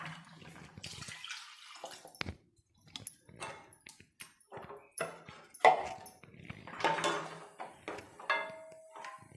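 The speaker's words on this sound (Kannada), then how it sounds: "ಈಗ ನೀರು ಸೇರಿಸ್ಕೊತಾ ಇದ್ದೀನಿ. ನಾನು 1 ಗ್ಲಾಸ್ ಆಗೋಷ್ಟು ನೀರು ಸೇರಿಸ್ಕೊತಾ ಇದ್ದೀನಿ." Water is poured from a glass into a tomato onion gravy in a cooking pan, heard as intermittent faint splashes and trickles with quiet gaps between them.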